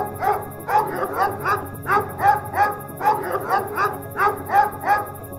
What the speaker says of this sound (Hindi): शेरू ने भौंकना शुरू कर दिया।